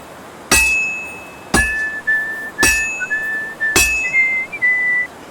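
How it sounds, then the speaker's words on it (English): Blacksmith hammer strikes at a forge in the video game Kingdom Come: Deliverance II, joined by Henry whistling: four sharp, ringing metallic hits about a second apart, each followed by bright, sustained whistled notes that wander in pitch, close and clear. "I don't really enjoy the high-pitched sound of the hammer hitting the material and Henry's constant whistling during the entire process"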